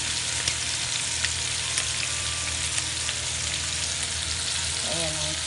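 Chicken pieces fry in oil in a pan, a continuous loud crackling sizzle close by with small pops throughout, and a brief faint voice near the end.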